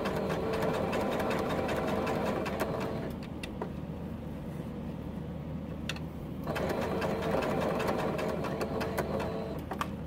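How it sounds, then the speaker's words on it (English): Sewing machine slowly stitching down the raw edges of a fabric frame border on a T-shirt quilt block with black thread, a continuous close motor hum and needle chatter easing briefly mid-run before resuming. "you just slow and easily go through and stitch all of your raw edges"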